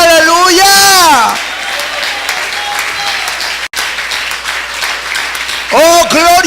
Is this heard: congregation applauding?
yes